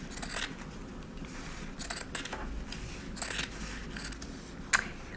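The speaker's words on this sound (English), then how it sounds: "I'm going to start trimming back all this excess stuff" Several quick scissor snips trimming excess fabric from sewn rouleau spaghetti straps, close by, with short pauses between cuts and a low background hum.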